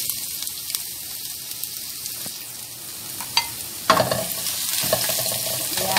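Ginger sautéing in oil in a pan for ginisang tahong, a steady soft sizzle and fry with occasional stirring clinks, louder and busier toward the end.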